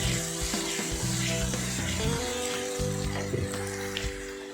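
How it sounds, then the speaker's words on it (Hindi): Chopped onions frying in oil, a continuous bright sizzle under steady pan and kitchen noise, even and close with no talk. "चॉप्ड अनियन को अच्छे से फ्राई कर लेंगे पहले।"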